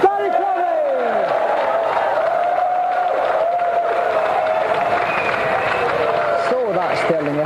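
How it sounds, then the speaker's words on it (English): A television studio audience applauds and cheers the European Sega champion, Barry McGuigan, at a gaming show. The crowd noise is steady and sustained under loud music, with a few voices breaking through. "a round of applause for the European Sega champion, Barry McGuigan"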